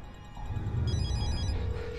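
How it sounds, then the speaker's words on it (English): Telephone ringing in a tense office scene from the TV drama 24: a muffled electronic ring with repeated trilling bursts over low background rumble, moderately loud, with no talking during the ring. "Come on, pick up the phone!"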